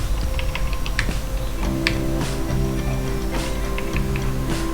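Someone types a captcha on a computer keyboard, a quick run of light key clicks over a loud steady hum and a repeating background tone.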